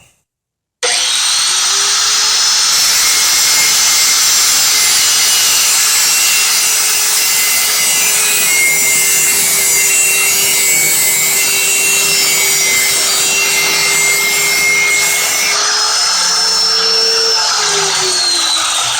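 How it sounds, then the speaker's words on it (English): An angle grinder clamped in a bench vise sharpens the end of a metal decoy field stake, a loud continuous high whine with abrasive grinding hiss that starts abruptly after a short silence and holds steady, shifting pitch slightly near the end. "I just put my grinder in my bench vise to make it stationary"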